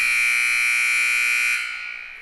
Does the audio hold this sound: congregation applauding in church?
no